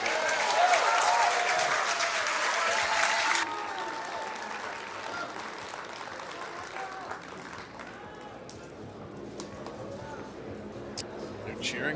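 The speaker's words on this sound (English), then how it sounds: "just watch this crowd. Listen to this crowd" At a Philippines versus Poland pool team world championship final, the crowd cheers and applauds loudly for about three seconds, then the roar falls to a lower, scattered clapping and murmur with a commentator talking over it.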